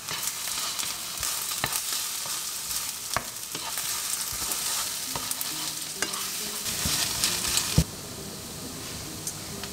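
Three eggs frying in a pan beside caramelized ham, a steady close sizzle with stirring scrapes and small pops throughout, and a brief louder burst near the end.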